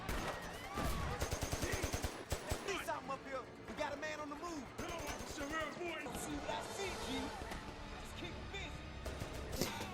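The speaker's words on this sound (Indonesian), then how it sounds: "melakukan baku tembak." Gunfire in a police shootout with robbers in a film, sharp close shots in quick rapid bursts mixed with other action sounds, a narrator's voice over the top.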